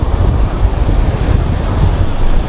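Ocean waves slosh around a small boat while strong wind buffets the microphone, a steady, loud roar with a low rumble underneath and no voices.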